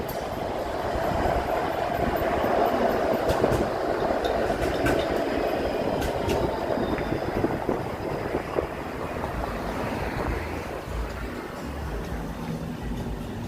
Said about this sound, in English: Hear the streetcar coming.